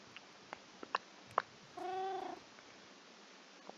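A cat in the Minecraft video game makes one short, soft meow-like call after a few faint clicks, all quiet, with no talking.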